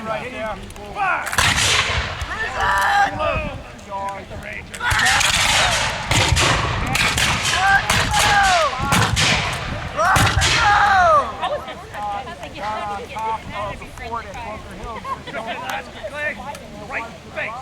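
A tactical weapons demonstration at the Rochambeau Festival, with repeated loud gunfire volleys and sharp cracking shots ringing out between shouted drill commands and voices, the reports echoing outdoors in bursts.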